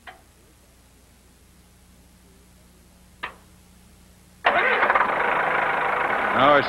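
A crawler tractor engine is started after two short clicks and a stretch of near quiet, then catches abruptly and settles into a loud, steady, close idle.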